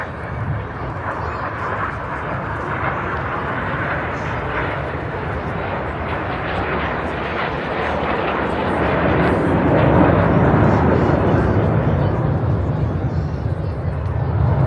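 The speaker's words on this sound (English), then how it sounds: "Each aircraft now pulling hard up to 6G" Display aircraft passing overhead at the Blackpool airshow, a steady loud jet roar that swells toward the end and holds through the clip.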